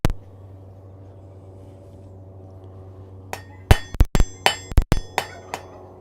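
A blacksmith strikes hot metal on an anvil in a smithy, a quick series of about eight loud ringing clangs with metallic ring-out, close and alone after a few seconds of quiet hum.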